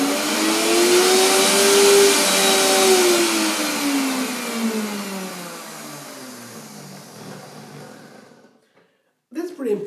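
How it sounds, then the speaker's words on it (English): A blender whirs loudly, mixing fruit juice thickened with locust bean gum; the motor pitch sweeps down over several seconds, then cuts out briefly before starting again near the end. "I have to blend it one more time to keep it down in the juice."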